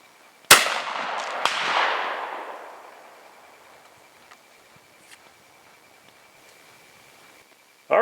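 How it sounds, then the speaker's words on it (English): A 16 gauge shotgun fires an old, crusty shell with one sharp, loud report, followed by a long ringing echo that fades over a couple of seconds into quiet outdoor background. "I believe it did capture this shell going off."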